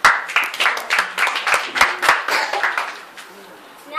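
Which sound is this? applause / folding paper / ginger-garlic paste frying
applause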